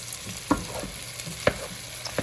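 Potato pieces cooking in a pan over high heat, with a steady frying hiss broken by a few sharp scrapes or stirs.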